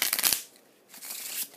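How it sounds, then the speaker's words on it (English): A deck of playing cards is shuffled up close: a quick burst of riffling flutters, a brief pause, then a second softer run of card shuffling, with no speech. "So you just shuffle the deck so they can see."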